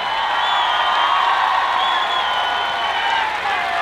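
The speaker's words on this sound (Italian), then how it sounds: "Questo applauso è per te, sai?" A large outdoor beach-concert crowd applauds and cheers for swimmer Benedetta Pilato, a steady wash of distant clapping and whoops sustained throughout, with a voice faintly carrying over the noise.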